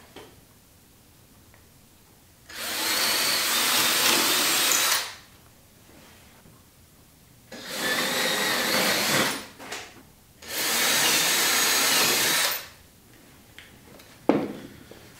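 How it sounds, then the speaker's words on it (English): A power drill whines in three sustained bursts of a few seconds each, boring through a teardrop trailer's exterior wall, with short quiet gaps between runs and a light knock near the end. "now I'm just going to drill out where the wires will go through the exterior wall"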